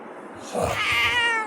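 A single drawn-out cat meow, loud and close, rising into a bright wavering cry and holding to the end.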